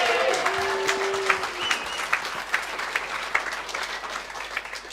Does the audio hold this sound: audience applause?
yes